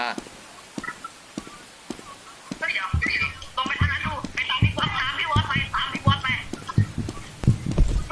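Footsteps in the Roblox horror game The Mimic, Chapter One: soft scattered footfalls at first, then from about three seconds a denser run of quick thudding steps with clattery texture, with no music underneath.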